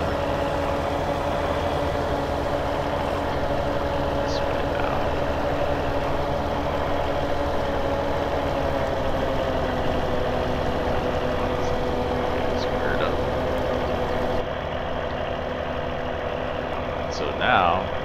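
A tractor pulling a New Holland 116 hydroswing haybine through alfalfa in Farming Simulator 17 drones steadily, a loud, constant engine hum that barely changes over a long stretch, with a faint voice talking beneath it.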